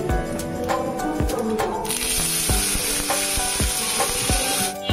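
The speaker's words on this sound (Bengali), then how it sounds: "এখন আমি দিয়ে দেব আলুটা।" Potatoes dropped into hot oil with curry leaves, a bright steady sizzle that swells as they hit the pan, with rhythmic stirring clicks and scrapes against the vessel, close and without voices.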